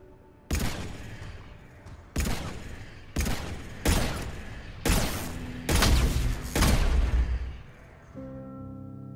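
Heavy gunfire from Mass Effect 3's final Priority Earth mission, about six loud, separate bursts that each ring out into a rumbling tail, ending in a sustained tonal hum.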